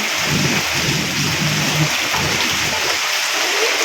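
Rain falls at a village home the day after Eid, making a dense, steady, close hiss that fills the whole stretch without a break.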